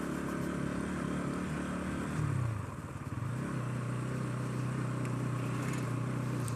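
Motorcycle engine working up a hill trail, a steady low drone that swells briefly as the bike strains, then settles into an even, close hum.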